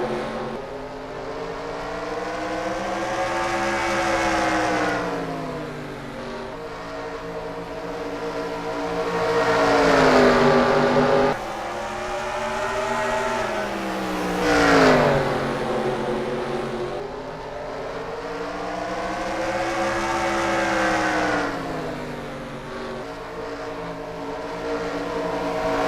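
Race cars roar around the short track at Bristol during a heat race, their engines rising and falling steadily as the field passes by continuously. The sound is loud and sustained, with no talk.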